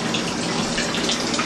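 Water pouring into a garden pond fed at about 1,000 gallons per hour, a steady, close, full-bodied splashing rush that stays constant throughout with no voices.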